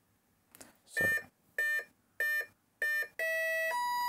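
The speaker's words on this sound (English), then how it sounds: "So there's our EDF starting up, and you can hear the elevator working." An RC model electric ducted fan starts up with a short series of electronic beeps in a regular rhythm, ending in a longer sustained tone, close and moderately loud.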